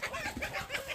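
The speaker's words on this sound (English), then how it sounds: "He's a rooster or a chicken." A chicken or rooster on a homestead gives a quick run of rhythmic clucks, faint and somewhat distant, over a brief second of outdoor background.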